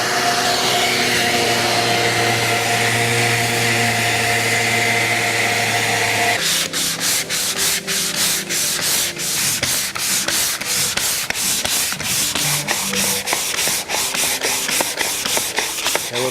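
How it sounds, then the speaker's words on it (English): Steady, loud machine whir of a power sander grinding across a surface, then changing to a choppier, pulsing rasp for the remaining seconds. "time to get some sanding equipment out"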